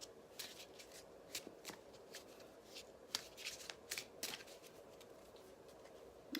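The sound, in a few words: shuffling tarot cards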